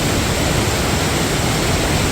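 Steady broadband roar of rushing water from a stream fed by Bridal Veil Falls in Yosemite Valley, a dense, unbroken wash heard close and alone with no voices.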